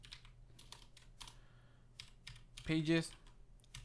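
A computer keyboard clicks in short, light clusters of keystrokes nearby while someone speaks over part of the typing.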